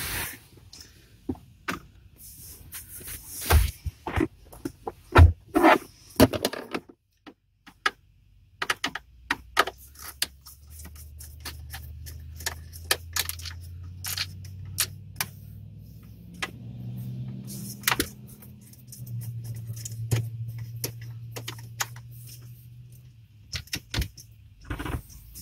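Screws being removed from the steering parts of a 2006 Nissan Pathfinder while taking out the clock spring. Sparse, faint metallic clicks and ticks come and go, with a low hum in the later part and no talking.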